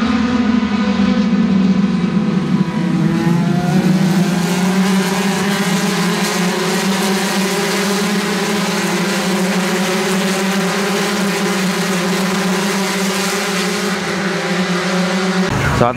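IndyCar race cars lap the Mid-Ohio track, a steady loud engine drone sustained over the full stretch with wavering pitch as cars pass, and a sharper burst right at the end.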